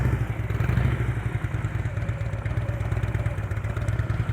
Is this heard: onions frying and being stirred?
no